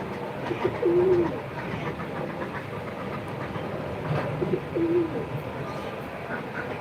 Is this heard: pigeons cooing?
yes